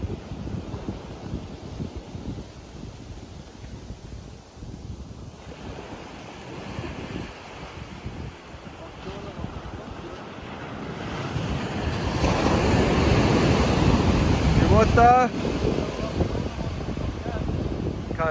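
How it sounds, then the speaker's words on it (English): Cold northerly wind gusting against the microphone with surf breaking nearby, a steady broadband roar that swells louder in the second half, with brief voices faintly underneath. "It's got that northerly wind."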